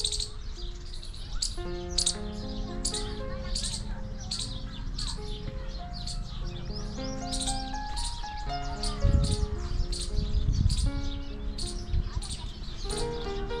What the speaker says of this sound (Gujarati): અહીંયા બસ આ પક્ષીઓનો કલરવ આ પક્ષીઓનો કોલાહલ સાંભળવાનું મન થાય